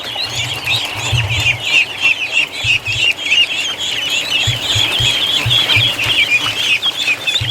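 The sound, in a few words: ducklings peeping and chattering outside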